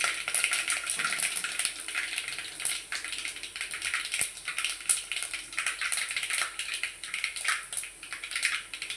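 Crushed cumin and pepper fry in hot oil for tomato rasam, a steady, bright sizzle with a few faint stirring clinks, heard alone and close.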